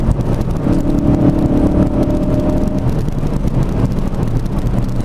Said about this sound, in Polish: zobaczmy jak przyspiesza nasz RS w trybie normalnym